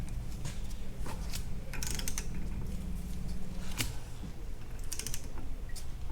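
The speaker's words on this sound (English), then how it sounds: "We're going to torque this and turn the hub at the same time." A torque wrench set to 21 foot-pounds tightens the wheel bearing nut on a Toyota AE86 hub while the hub is turned by hand, producing close, irregular ratcheting clicks and creaks over a low mechanical hum.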